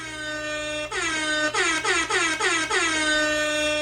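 A loud air horn blares continuously, then breaks into a rapid series of short repeated blasts, very close and piercing.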